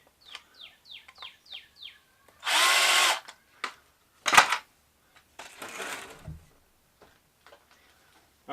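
A power drill loosens screws at a workbench in three short whirring bursts, the middle one briefest, with small squeaks and clicks between them and no talking.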